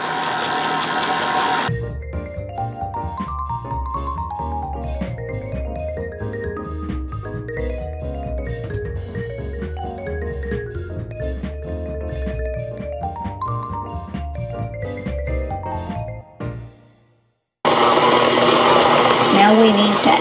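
An electric mixer beats oatmeal cookie dough with a steady mechanical whir for about fifteen seconds and then stops. A loud burst of other noise follows right after.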